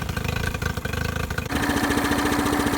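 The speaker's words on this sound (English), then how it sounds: "I have a Honda 15 horsepower outboard and the idling speed is going a little low" A Honda BF15 15 horsepower outboard motor idles low with a close, steady chugging beat, then the engine note shifts to a slightly higher, smoother running speed partway through.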